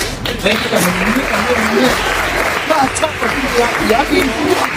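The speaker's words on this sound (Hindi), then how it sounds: "जो एक्सपीरियंस है उनके लिए तालियां" A crowd claps and applauds continuously while a voice keeps talking over it.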